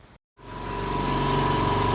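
An air compressor used to run a low-cost milling spindle kicks on after a brief silence and quickly builds into a loud, steady mechanical drone.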